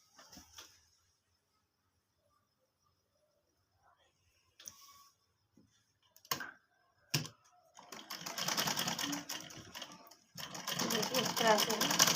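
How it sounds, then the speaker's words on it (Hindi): Sewing machine stitching over an existing seam on a kurti, starting with a few brief isolated bursts, then running in a steady whirring stretch, a short pause and another close, loud run at the end. "तो इसके लिए हमको इस सिलाई के ऊपर सिलाई चलाना है।"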